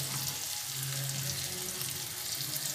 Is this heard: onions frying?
yes